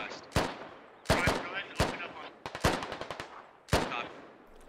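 Gunfire in the military shooter game Squad: loud single shots and short rapid bursts ring out at irregular intervals, some sharp and close, others quicker clusters of rounds, with no talking.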